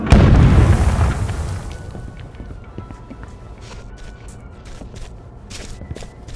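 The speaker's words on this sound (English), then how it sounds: "They're bombing us again!" A heavy bombing explosion in We Happy Few opens loud and booming, then fades into a rumbling tail with scattered light footsteps and small clicks afterward.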